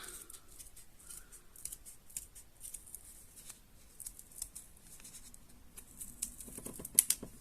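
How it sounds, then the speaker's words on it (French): Scissors snip through paper while a paper flower bouquet is being made, giving a long run of small, close, quick cuts with an uneven rhythm and a few louder snips near the end. "Et après avec les ciseaux, on va couper."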